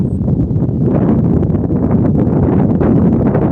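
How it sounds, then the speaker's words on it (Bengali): Wind blows hard across an open outdoor spot with stormy weather and lightning about, a loud, continuous rumbling buffet with gusting swells throughout and no talking. "বাতাস কত সুন্দর বাতাস এই জায়গায়"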